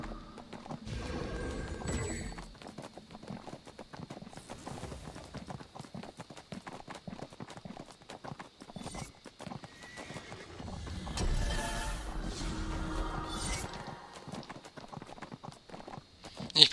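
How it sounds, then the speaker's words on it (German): Horse hooves clip-clop steadily through a PvP match in the online game Neverwinter, with a horse neighing and whinnying along the way, mixed with game effects and scattered combat clatter. "Ich brauche echt ein schnelleres Pferd."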